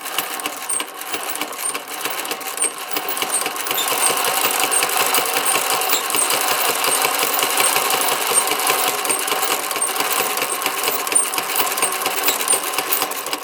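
A Singer 72W12 hemstitch sewing machine runs steadily and close by for the whole stretch, its fast needle clatter rising to a continuous, even mechanical chatter after a few seconds, with no voices.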